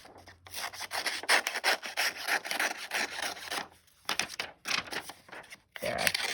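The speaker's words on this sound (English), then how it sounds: "So I'm going to quickly cut the edges." Scissors cut through paper strips for a homemade measuring tape, giving close, irregular rasping snips and rustles with short pauses between cuts.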